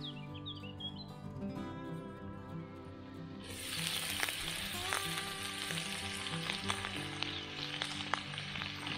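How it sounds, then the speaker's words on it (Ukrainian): Meat fries and sizzles over a campfire at an overnight fishing camp, with a steady crackling hiss that grows louder partway through while birds chirp faintly in the background. "Так, м'ясо вже гарно піджарилось"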